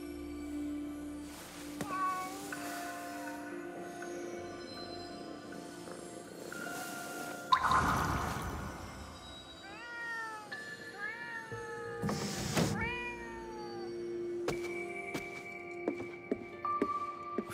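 Several distinct cat meows from a cat in Ghostwire: Tokyo, clear and fairly close, spaced out over an ambient game backdrop with a couple of dull thumps and scattered chime-like tones.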